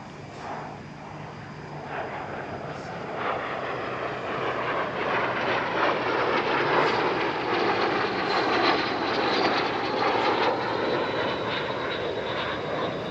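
L-39 jet trainers flying at an airshow at Paris-Villaroche, a loud, sustained jet engine roar building and holding steady as the aircraft run in for an opposition break.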